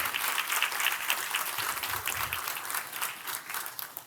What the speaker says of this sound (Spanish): Den un aplauso al Señor entonces por eso.